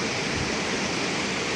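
Rushing floodwater after heavy rain and a dam breach in Mahuva, Gujarat, a dense, continuous roar of fast-moving water that stays steady and loud throughout, with no voices over it.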